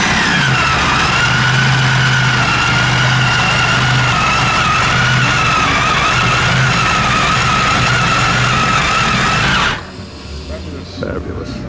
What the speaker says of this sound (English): This is a Fairchild Ranger engine.